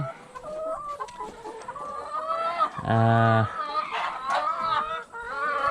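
Free-range hens clucking in a large flock, a run of close, varied clucks and squawks with one loud rising call in the middle, with a person talking faintly underneath.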